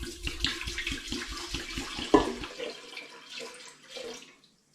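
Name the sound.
pouring liquid into an Air Still drum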